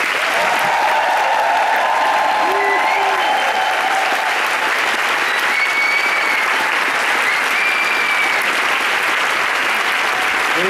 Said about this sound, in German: Und nochmal bitte tosenden Applaus